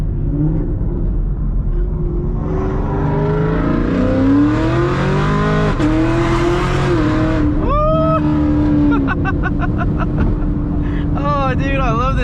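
A loud boosted Camaro engine drones, revs and accelerates hard from inside the car, rising and falling in pitch through gear changes, with occasional voices over the engine.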